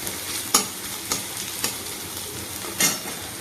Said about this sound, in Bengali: এবার এর মধ্যে একটু আদা রসুনের পেস্ট দেবো, দিয়ে ভাজবো।